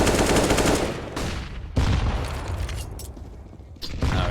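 Rifle fire in a Counter-Strike-style competitive match, rapid loud bursts at close range that fill the opening second, then separate sharp shots and further bursts, with no talk.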